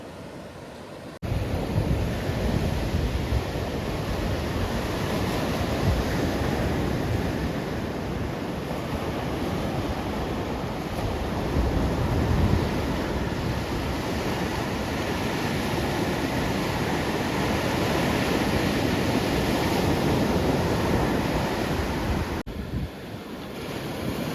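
Rough sea surf pounds the shore in a continuous, loud roar during a storm, with gusting wind buffeting the microphone and no voices.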